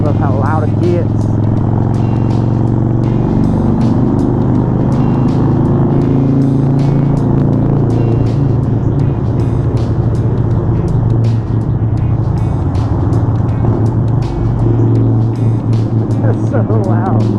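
A 2013 Harley-Davidson Sportster 48 engine roars loudly and steadily while riding, a continuous heavy rumble with wind noise and a voice talking over it.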